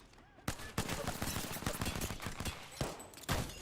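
Sharp, rapid gunfire from a Call of Duty video game, a sustained volley of close shots with a few louder spikes, rattling on without pause.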